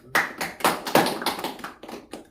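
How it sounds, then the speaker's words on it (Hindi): An audience claps on request in a lecture setting, a burst of close, loud hand claps with uneven rhythm that rises and fades over a couple of seconds, with no talk over it. "मार दो ताली"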